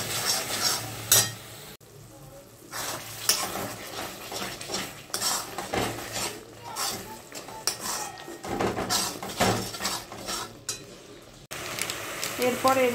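Spices for capsicum chicken being stirred and fried in a pan, a metal spoon scraping and clinking repeatedly against the pan in an uneven rhythm over a soft sizzle, close up, with someone speaking at times.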